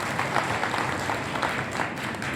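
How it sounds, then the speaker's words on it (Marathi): A crowd at a protest march rally in Loha breaks into steady, dense clapping that holds at an even level throughout, close and continuous with no voices standing out. "टाळ्या वाजवा."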